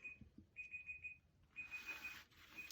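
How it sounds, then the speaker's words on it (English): Kitchen-style timer alarm beeping in repeated short bursts of rapid electronic tones during a home wall-painting session, fairly quiet with faint room noise between the bursts. "Let me get that timer."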